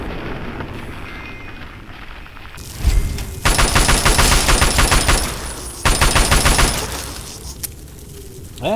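Close, loud gunfire in Fallout 3, with rapid repeated shots in two sustained bursts, a sharp clattering burst starting the run and fading ambience afterward.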